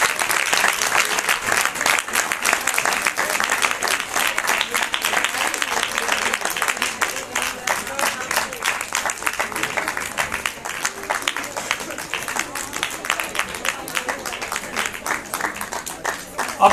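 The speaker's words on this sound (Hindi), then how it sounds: "तालियां बजती रहे बच्चों।" Children at a science festival event in Uttarakhand applaud continuously, a dense, even crowd of clapping that holds for the full stretch and fades slightly toward the end.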